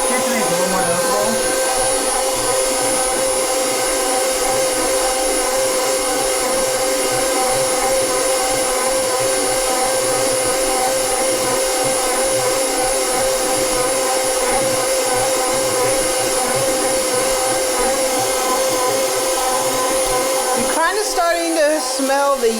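KitchenAid Pro 600 and Hobart stand mixers kneading bread dough side by side, giving a loud steady motor whine with a constant hum throughout. Occasional rocking rumble sits under the whine, and a brief clatter comes near the end.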